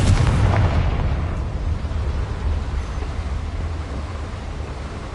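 A Confringo fire spell explodes in the video game Hogwarts Legacy, a heavy booming blast up front that rolls off into a long, rumbling, crackling decay with no talk over it.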